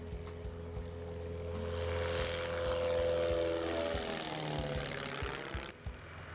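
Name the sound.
small propeller airplane departing from mesa airstrip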